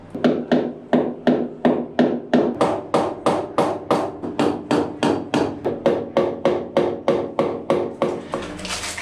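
A Cambodian hammer strikes steadily about three times a second, around two dozen sharp, loud blows with a ringing knock, close by and with no talking, during a hot water system install.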